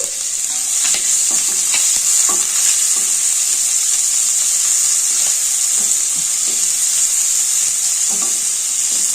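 Sliced onions dropped into hot oil for a restaurant-style mixed vegetable curry, sizzling in a steady, loud, close hiss while a spoon stirs and scrapes the pan in scattered clicks, no voices.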